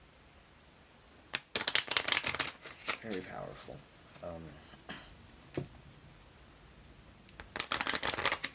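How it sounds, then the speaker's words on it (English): An oracle card deck is shuffled by hand during an intuitive tarot reading, giving bursts of crisp, rapid riffling flutter near the microphone separated by quieter handling, with a voice speaking briefly between them. "Shuffling this oracle deck to get a feel of the kind of energies you might be attracting into your life."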